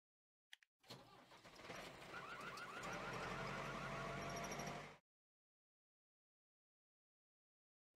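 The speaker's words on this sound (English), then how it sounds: "Tractor." A tractor engine starts and runs steadily, loud and close for about four seconds before cutting off, with a brief knock just before it starts.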